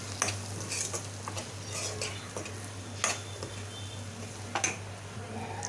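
A spoon stirs corn capsicum masala in a pan over a soft sizzle, with sharp metallic scrapes and clinks at irregular intervals and a steady low hum beneath.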